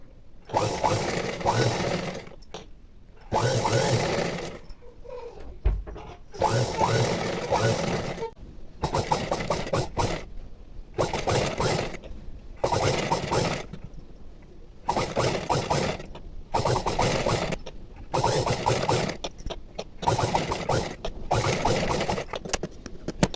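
A sewing machine with a normal presser foot stitches fine thread piping in repeated bursts of several seconds each, broken by short pauses. The rattle is close and loud, and there is occasional talk between runs.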